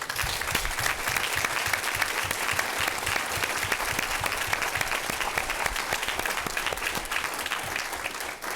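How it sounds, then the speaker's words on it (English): An audience at a school board meeting claps for student performers, a dense, even round of applause that holds steady throughout and fades slightly at the very end. "Let's give them another round of applause"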